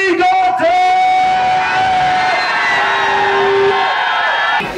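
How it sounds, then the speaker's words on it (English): A concert crowd at the Wexford Spiegeltent shouts and yells as loud as it can, a dense, sustained roar of voices lasting several seconds before cutting off. "I ask the crowd to shout as loud as I can to see who the loudest crowd we ever played to is."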